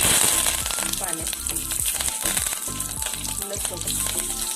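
Mustard seeds dropped into well-heated oil for an okra dish crackle and sizzle loudly and continuously, with dense spattering pops close up throughout.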